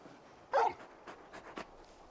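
Torgal, a large dog in Final Fantasy XVI, gives a short, faint whimpering sniff followed by a few soft panting breaths, quiet and close, with no talking.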